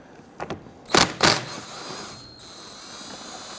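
Ratchet loosening a 10mm bolt on the inner fender liner of a 2006–2014 Honda Ridgeline, heard as a few short, sharp clicking bursts close by, followed by a quiet tail.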